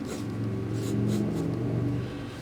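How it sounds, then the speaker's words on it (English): Traffic rumbles outside at a moderate distance, a low continuous drone of cars passing with a slight swell in the middle. "We do have some cars and things going through."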